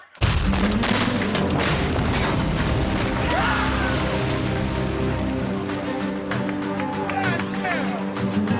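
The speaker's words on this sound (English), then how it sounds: "It blew into a million pieces, just like on the script." Pyrotechnic explosion collapsing a wall on the set of the 2004 Alamo film: a loud, sustained roaring blast with crackling debris and rumbling that runs continuously through the clip, with voices faintly underneath.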